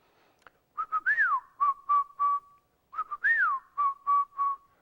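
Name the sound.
whistled imitation of whippoorwill call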